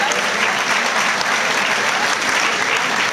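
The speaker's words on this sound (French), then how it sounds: "vous pouvez l'applaudir" An event crowd in Nice at a senior beauty-pageant-style election breaks into loud, sustained applause, a thick, even roar of clapping that fills the whole stretch with no pauses.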